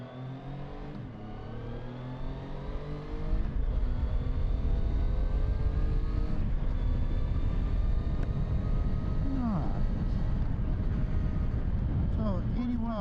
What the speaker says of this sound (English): go hit the road for a little ride on the Tiger Sport